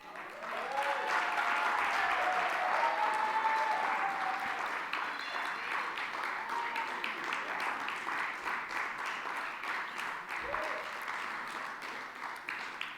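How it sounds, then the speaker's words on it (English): Sustained audience applause for Irene at a conference wrap-up keynote, a steady, fairly distant wash of many hands clapping that continues throughout, with a few faint voices underneath. "How many of you believe Irene deserves a special round of applause?"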